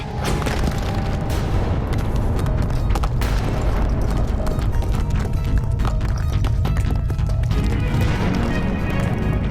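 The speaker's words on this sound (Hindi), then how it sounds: "ये तो पर्वत में विस्फोट हुआ है।" A mountain explosion: a loud, rumbling blast with crashing falling rocks, heavy booms and clattering impacts rolling on continuously, close and powerful.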